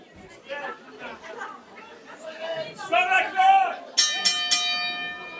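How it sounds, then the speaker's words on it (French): A bell rings to start a wrestling match, a few bright metallic dings near the end that follow lively crowd chatter and cheering. "Et la cloche sonne."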